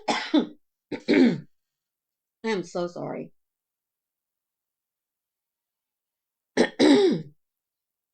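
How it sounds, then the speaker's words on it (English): Repeated throat clearing and short coughs from a woman leading a prayer devotional, heard close in several brief bursts with silent gaps, along with a spoken apology. "I cannot get this frog out of my throat, so I do apologize for any coughing"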